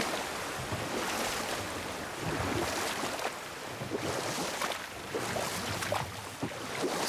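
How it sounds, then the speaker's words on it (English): Rushing waterfall in the God of War video game, a steady broadband roar of falling water with wind-like hiss, continuous and moderately distant, no voices. "Waterfall. Sure is beautiful."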